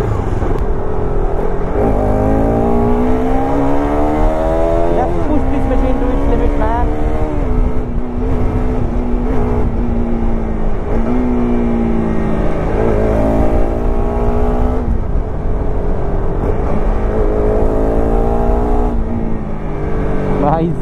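A Bajaj Pulsar RS200 motorcycle engine accelerates repeatedly through the gears on the road, loud and close, revs climbing and dropping in waves with wind rush throughout.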